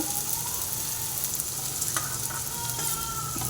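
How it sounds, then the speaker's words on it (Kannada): Tomatoes frying in a pan for an egg paratha, a steady broadband sizzle that stays close and even throughout, with a few faint utensil scrapes and no talking. "ಈಗ ಟೊಮೆಟೊನ ಹಾಕಿ ಚೆನ್ನಾಗಿ ಎರಡು ಫ್ರೈ ಮಾಡ್ಕೊತಾ ಇದ್ದೀನಿ"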